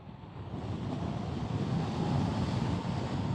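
Wind rushing over a rider on a Honda WN7 motorcycle with almost no wind protection, a constant dull roar of buffeting that swells slightly louder toward the end.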